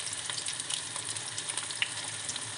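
Salted, squeezed eggplant fries in a pan with a continuous close crackling sizzle, small pops scattered through the steady hiss, no talking.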